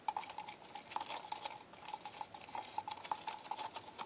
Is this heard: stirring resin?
yes